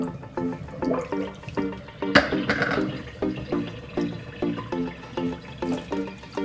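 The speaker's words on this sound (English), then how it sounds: "I'm going to go ahead and drain the water out." Water gurgles and glugs in a steady, pulsing rhythm as it drains from a sink after washing a wig, close by, with a brief louder splash partway through.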